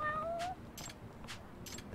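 Cat meowing in the Lost Judgment video game, one clear meow followed by several soft, evenly spaced puffs of sound, quiet and close.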